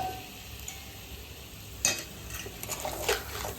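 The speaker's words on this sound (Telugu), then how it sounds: "వాటర్ వేసుకొని కొంచెం అట్లా కలబెట్టుకునేసి" Close scraping and stirring of blue crab curry in a pot over a steady sizzle, with a couple of louder utensil knocks against the side.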